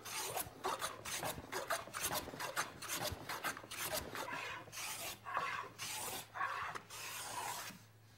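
A hand plane fitted with a toothed blade is pushed across a wood surface in quick, rhythmic rasping strokes, about a dozen close, loud passes with short gaps between them.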